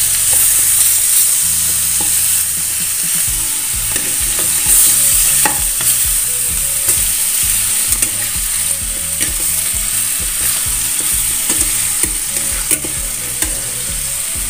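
Chicken simmering in sweet soy sauce over low heat gives a steady close sizzle and bubbling, with frequent scraping stirs of a utensil against the pan throughout and no talking.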